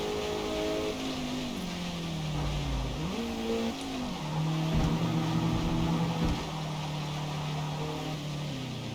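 An engine in a racing video game holds high revs and then shifts through gears, its pitch climbing and dropping in steady sweeps. The sound stays loud and continuous throughout, with no speech.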